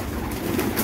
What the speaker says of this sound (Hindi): माशाल्लाह बड़ा बेहतरीन कबूतर है ये भी